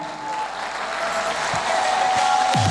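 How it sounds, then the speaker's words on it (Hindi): Applause from the crowd at a company function in an auditorium, a steady wash of clapping that builds slightly, with a faint tone in the background and a brief voice-like sound at the very end. "जोरदार तालियां हो जाए सर के लिए।"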